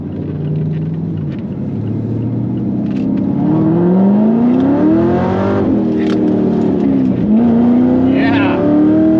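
An LS3 V8-swapped ND2 Mazda MX-5 pulls hard in second gear, its loud engine note rising steadily over several seconds with a brief dip at a shift-like break, close and continuous, with some faint talk underneath.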